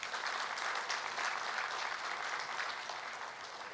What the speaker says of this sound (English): I request everyone to welcome the parents and guardians of the graduating batch with a great round of applause